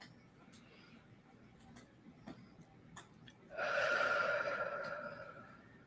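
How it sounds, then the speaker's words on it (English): A single long, slow breath in, deep and close, swells after a few seconds of quiet with faint ticking, then tapers off gradually. "Just take a few deep breaths."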